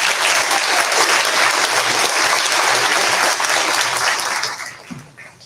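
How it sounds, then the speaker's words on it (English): A crowd at an 8th grade continuation ceremony claps steadily in loud, sustained applause that fades out toward the end. "Round of applause."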